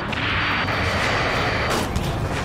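A missile or rocket explosion in the Ace Combat 7 video game: a loud, dense roaring blast that fills the clip, with a second burst of impact near the end, heavy and close.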